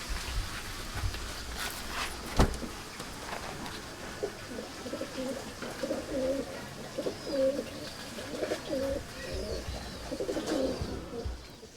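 Madrasi pigeons coo in a steady series of soft, low, rounded calls, with faint background noise and a sharp knock early on.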